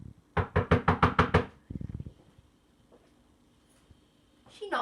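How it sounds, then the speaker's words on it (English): Knocking on a wooden cottage door during a Snow White storytelling: a loud burst of about eight quick raps, then a quieter second run of knocks, with a voice talking briefly at the end. "She knocked at the door."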